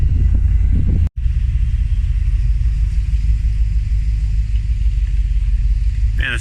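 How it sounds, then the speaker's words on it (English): A long truck rolls past close by, giving a steady, loud low rumble with road and wind noise that holds for several seconds without a break. "this truck is so freaking long."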